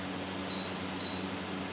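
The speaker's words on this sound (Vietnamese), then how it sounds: "tôi bấm vào nó đang kêu tít tít bởi vì chưa cho nước" A Rapido air cooler fan beeps to warn that its water tank is empty: two short, clear, high-pitched beeps about half a second apart over a steady background hum.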